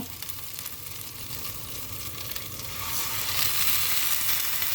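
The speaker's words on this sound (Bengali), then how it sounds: "এইটা একটু ভাজা ভাজা করে নেওয়ার পর পানি দিয়ে দেবো একদম ভাজা ভাজা হয়েই গেছে নিচে লেগে যাচ্ছে" Spice masala fries in a pan for a shing catfish curry, starting to stick to the bottom, making a continuous hissing sizzle that grows louder near the end.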